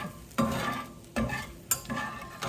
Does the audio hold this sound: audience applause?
no